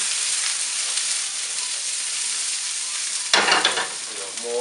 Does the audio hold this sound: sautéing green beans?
yes